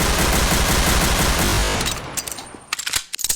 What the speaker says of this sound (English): why are you shooting me, Reggie?